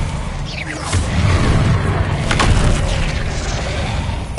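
Expelliarmus disarming spell cast in the Hogwarts Legacy video game: a loud booming magical burst swelling after a second and sustaining with whooshing sweeps, a second surge around the middle, fading slightly toward the end, no talk.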